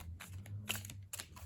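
A botanical-themed oracle card deck is shuffled by hand in short, rapid riffling bursts, soft papery flicks close to the listener over a faint background hum.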